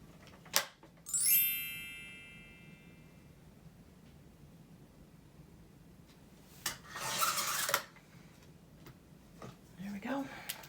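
A very narrow, skinny strip of paper is trimmed off while making a craft tag: a short rasping cut of about one second stands out from a quiet room, preceded by a faint ringing clink.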